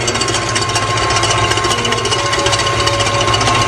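Electric mixer whipping cream into chantilly, a loud continuous motor whir with a rapid rattling buzz close up, steady throughout with no talk.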